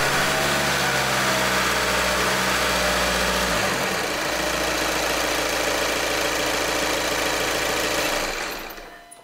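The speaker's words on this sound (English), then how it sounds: "With the motor at full oil pressure, I'll rev it a little bit just to push the oil through the system." A 2012-2014 VW Passat TDI diesel engine (CKRA) revved lightly after an oil change, with a close, loud steady clatter that shifts in pitch partway through and then cuts off near the end.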